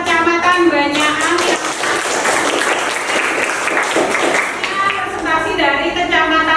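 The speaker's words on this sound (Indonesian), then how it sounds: "Kita beri tepuk tangan untuk Kecamatan Banyakan." Audience applause at a district-level presentation session in Indonesia, clapping for the Banyakan sub-district team: a steady, dense burst of many hands lasting several seconds, set between stretches of a voice speaking.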